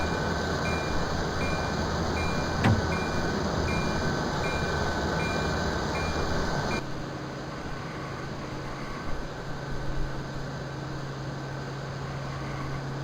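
A MARC Penn Line train in a train simulator game runs with a steady, loud drone and a high whine. A brief sharp click comes early, and the sound shifts to a lower, quieter hum partway through with no talking.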